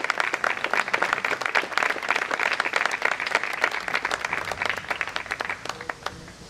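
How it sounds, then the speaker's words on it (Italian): Warm audience applause at a book presentation in Rionero, Basilicata: dense, even clapping from a room full of people, sustained for several seconds and tapering slightly at the end. "applauso affettuoso"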